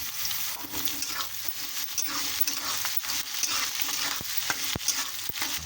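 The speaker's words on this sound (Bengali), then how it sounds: "দেখো পেঁয়াজ আর রসুনটা আমার ভাজা হয়ে গেছে।" Garlic and green chilli fry with onions in a pan, giving a soft, continuous sizzle. Sharp clicks from stirring cut in now and then, and no one speaks.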